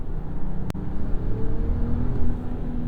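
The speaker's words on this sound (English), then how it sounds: "The last con out here on the road is the exhaust note." Low, droning exhaust note from a 2026 Ram 1500 Tungsten pickup while driving, a steady engine rumble heard from inside the cab with one brief sharp click partway through.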